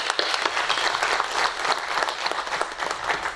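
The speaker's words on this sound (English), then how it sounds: "allow me to clap hands for them." An audience at a university research week awards and closing ceremony claps in a steady, even round of applause, many hands blending into a continuous, moderately loud patter with no voices standing out.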